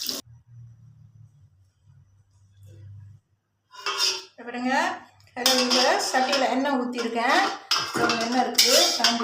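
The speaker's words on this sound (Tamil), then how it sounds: "இது வந்து திரும்ப எடுக்கிறேன் நான் எடுத்து இந்த பிளேட்டில் போடுறேன்" Fried bean curd is lifted from a hot pan onto a plate, producing a few clinks and scrapes of metal utensils against cookware at the start, followed by a person talking over quieter background noise.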